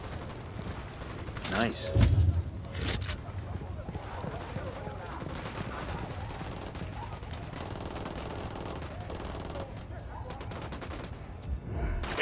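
Gunfire in the Ghost Recon video game: sharp bursts and a fusillade of shots near the start, then continuous rattling combat noise throughout, with a player's voice speaking briefly over it.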